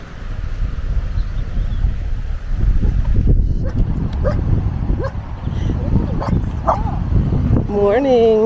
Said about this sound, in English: what type of dog is this? Mixed poodle.